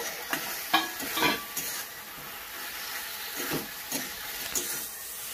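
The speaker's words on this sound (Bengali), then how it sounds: "দিচ্ছি সিম আর আলুটা, মশলার সঙ্গে ভালো করে মিশিয়ে নেব।" Flat beans and potatoes fry in oily spice paste, a soft steady sizzle broken by repeated scraping stirs of a spoon against the pan, fairly quiet and without talk.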